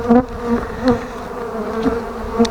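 Honeybees buzzing inside a wintering hive clustered across several frames, a steady close droning hum with a few brief louder swells, heard alone without talk.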